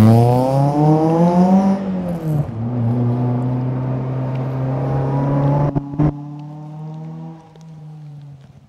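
A cheap Citroën Saxo car revving and pulling away, its engine note rising, dipping through a gear change, then holding a steady drone as it recedes, with a brief clunk partway through.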